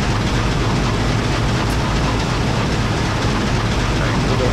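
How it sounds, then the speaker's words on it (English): An Amtrak GE P30CH locomotive's diesel prime mover in Train Simulator 2016, a loud, steady low rumbling drone that holds without a break. "sounds that have been replaced are, as you can tell, the prime mover sounds"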